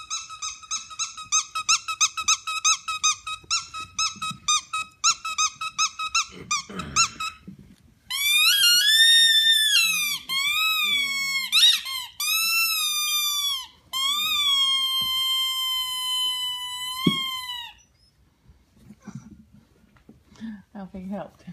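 High-pitched squeaking from newborn Silver Weimaraner puppies in a litter of thirteen, rapid chirping cries at first, then longer wavering squeals, close and loud with occasional soft sounds between.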